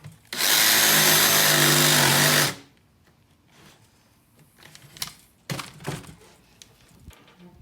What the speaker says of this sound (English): let me get my jigsaw